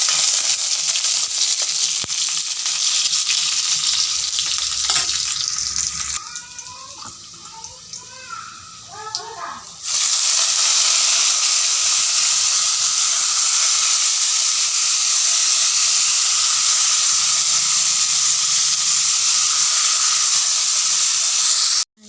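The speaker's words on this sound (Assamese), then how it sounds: "এনেকৈ তেতিয়া পিঁয়াজ দিছোঁ" Onions frying in a kadai over a wood fire for a vegetarian dinner, a steady broadband sizzle and hiss that drops briefly while a voice speaks in the middle, then returns loud and continuous.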